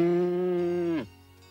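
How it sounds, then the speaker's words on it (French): A single long, low moo from a cow, held steady for about a second before breaking off, close and clear with quiet afterward. "Oh, mon Dieu, Rémi, une vache!"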